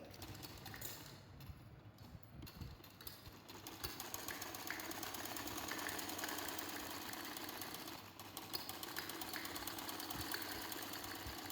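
A sewing machine stitching the sleeve seams of a baby frock, running as a steady close mechanical whir through the whole stretch with brief dips and slight changes in speed.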